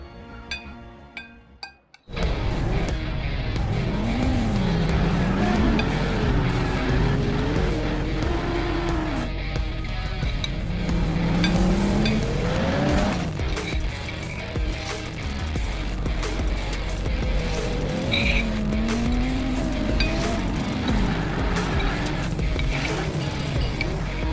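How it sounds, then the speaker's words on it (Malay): A race car revs and speeds around a track, its engine rising and falling in long sweeping pitch swells that sound close and loud, with skidding and tire squeal, after a short quiet start. "saya kurang puas hati lah dengan kelajuan kereta tu, Pak Mail."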